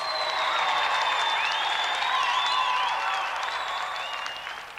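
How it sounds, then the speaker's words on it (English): Sustained applause from an audience fills the space, steady and fairly loud, then begins to fade toward the end. "Another round of applause for our gallant competitor, Peter Walters."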